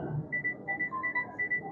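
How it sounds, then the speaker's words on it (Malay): An alarm beeps in a rapid, repeating electronic pattern of short high pulses during a dawn religious lecture in a mosque setting, fairly quiet and steady, with room murmur beneath and no clear speech. "Ini alarm apa Ibu?"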